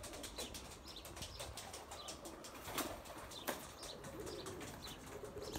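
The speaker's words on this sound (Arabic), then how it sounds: "وهذا هو حمام الشواطئ البيضاء اللي كاين عندي مع ديك الفرات الرمادة" White pigeons of a Moroccan breed flapping their wings repeatedly with soft cooing in the background, a continuous fluttering texture at moderate distance with no speech.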